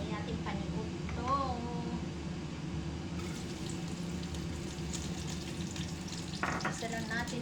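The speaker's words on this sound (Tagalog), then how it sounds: "Igisa lang natin ang ating ulam na sardinas." Sardines sautéing in a pan, a soft continuous sizzle and stir heard close by at low volume, with a person talking over it at moments.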